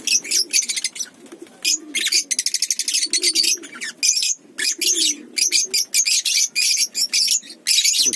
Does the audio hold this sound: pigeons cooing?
yes